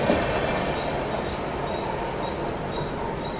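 Bhuj–Bandra superfast express train passing close alongside at Borivali, a steady loud rumble of wheels and carriages running continuously throughout, with faint high rail squeals drifting above.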